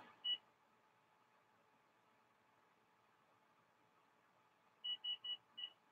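Kitchen timer set during cooking a pork loin roulade: one short electronic beep, a pause, then four quick beeps in a row, faint and close against a quiet kitchen background hiss.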